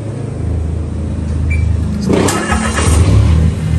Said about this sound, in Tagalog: tapos pag i-start, press nyo dito, tapos start up